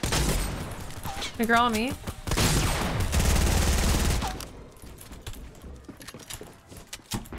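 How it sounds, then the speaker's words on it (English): Rapid gunfire bursts from the video game Fortnite, loud and dense in the first half, with a player talking over the shots and the action quieting toward the end. "What the heck? What am I shooting at?"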